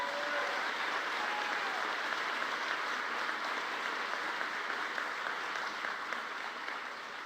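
Steady audience applause at an electric-car company announcement with a senator present, a dense, even wash of clapping that holds at a moderate, fairly distant level throughout, with no voices over it.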